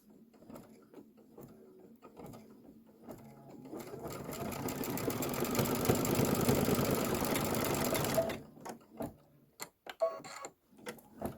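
A sewing machine stitches a Kimberbell Main Street Celebration farmhouse piece in a home sewing room. After a few quiet clicks the motor starts up and runs steadily for several seconds, then stops and a few small handling taps follow.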